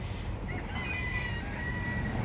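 Chickens cluck and call at a truck stop zoo over a constant rushing background noise, their short bird cries scattered through the clip.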